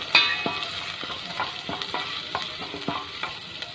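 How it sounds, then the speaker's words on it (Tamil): Chopped onion and garlic sautéing in a pan with cinnamon and cloves, a soft steady sizzle broken by regular clicking stirs of a spoon against the pan, close by, without any talking. "இதோட வெட்டி வச்ச வெங்காயம், பூண்டு, இது எல்லாத்தையும் போட்டு வதக்கிடலாம்."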